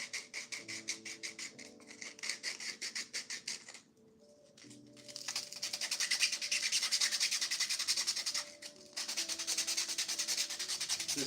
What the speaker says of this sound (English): This is the first layer of sanding, I like to call it.